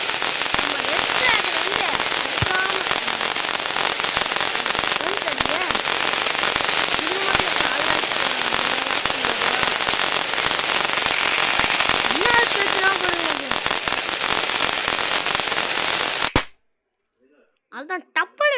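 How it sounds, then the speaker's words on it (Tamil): Dense, continuous crackling bursts of firecrackers fill the scene in a mobile video game, loud and relentless, then cut abruptly to near silence with a few faint clicks. "அதுதான் டப்பல் வெடிக்குது"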